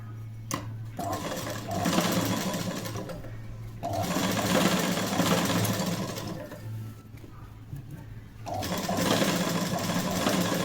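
Sewing machine stitching a sleeve seam, running in steady close bursts of rapid needle clatter and motor hum, stopping briefly between passes.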